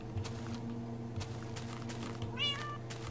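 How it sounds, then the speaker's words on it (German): A cat in Minecraft gives a single rising-falling meow partway through, over a steady, busy game background with faint footstep-like ticks. "Die epische Katze."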